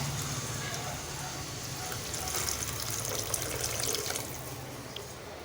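Tamarind water pours steadily into a pan of sautéed tomatoes for fish curry, a continuous splashing trickle, while a voice may be talking faintly in the background.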